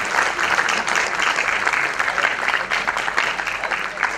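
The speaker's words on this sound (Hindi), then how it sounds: "श्री कविंदर गुप्ता जी जोरदार तालियों से स्वागत करें।" A crowd at the Dr Shyama Prasad Mukherjee Award event claps loudly to welcome a guest, a dense continuous wash of applause with some indistinct voices mixed in.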